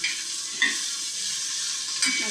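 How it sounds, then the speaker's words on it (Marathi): Okra frying in a little oil on a flat pan, a close, even sizzle broken by a few short scrapes from stirring. "पहिला थोडा तेल टाकून तव्यात भाजायला लागते"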